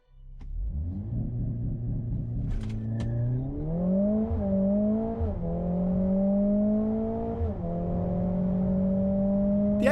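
A Mercedes-AMG A45 S accelerates hard down a drag strip, its engine note climbing steadily through several gear changes with brief dips between shifts, loud and close throughout with no talk.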